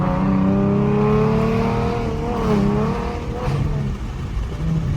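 A V6 Ford Mustang engine drones steadily and close, its pitch rising and falling as it revs while driving, with no talking.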